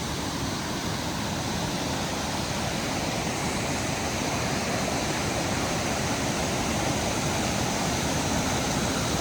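A waterfall roars steadily and close, a dense, unbroken broadband rush of falling water at high level with no pauses and no voices.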